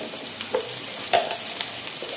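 Chopped red pepper and garlic sauté over medium-low heat in a pan, a soft steady sizzle punctuated by a few distinct scrapes and clinks of stirring.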